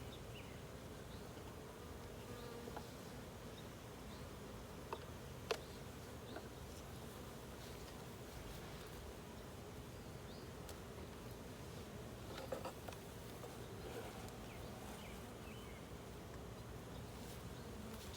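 Honey bees buzz steadily throughout an open hive inspection of a foundationless hive, a dense, continuous drone close by with a few faint clicks and knocks over it and no talking.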